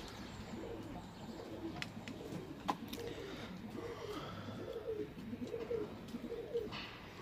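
Pigeons coo softly and repeatedly in an indoor pet bird room, low murmuring calls at moderate distance with light rustling and the odd chirp.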